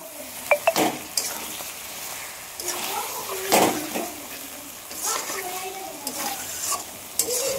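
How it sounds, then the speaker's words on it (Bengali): Fried potatoes are tipped into a pan of mutton curry and stirred, giving scraping spoon strokes and clatter over a soft, steady sizzle, close and moderately loud, with irregular bursts of stirring. "এইবারে ভাজা আলুটা দিয়ে দিব।"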